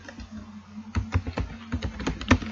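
Keys clack on a computer keyboard in a quick, irregular run of a dozen or so close, crisp taps against a low background hum.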